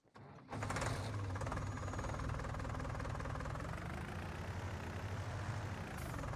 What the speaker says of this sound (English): Let's get the Fiat.